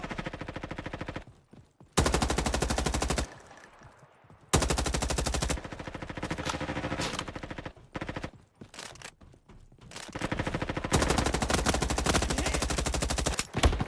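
Bursts of rapid automatic gunfire in a Roblox shooting game, loud and dense, arriving in several long volleys separated by brief quieter gaps.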